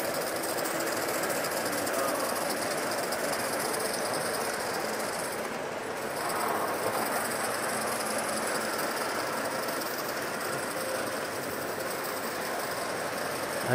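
A Gauge 1 (1:32 scale) live steam model locomotive, an A1, runs past on an outdoor club demonstration layout, giving a steady broadband rushing and chuffing wash that holds at an even level throughout, with a slight swell midway.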